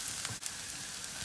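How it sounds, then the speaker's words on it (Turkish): Carrots and garlic sautéing in a hot pan for a chicken kebab dish, giving a faint, even hissing sizzle with tiny crackles, brief and steady with no talking. "Havucumuzu ne kadar kavurursak o kadar daha çabuk pişer."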